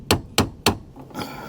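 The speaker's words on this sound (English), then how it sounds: "I'm going to take the back of this pry bar right here, and I'm going to stick it on top of that, and I'm just going to smack this pry bar with my hammer" Three sharp metallic hammer strikes on the back of a pry bar braced against a Mazda power seat track, evenly spaced, close and loud, with a brief clatter ringing out after the last blow.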